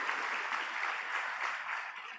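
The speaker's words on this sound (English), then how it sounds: "since I cannot applaud as loudly as you can. Hopefully you will" An audience at a convocation ceremony claps in steady, dense applause that carries evenly throughout, with no voices over it.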